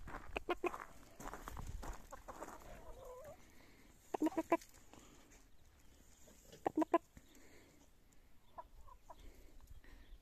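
A voice imitates a clucking hen with short bursts of clucks and squawks in a few clusters, close by, over a quiet background.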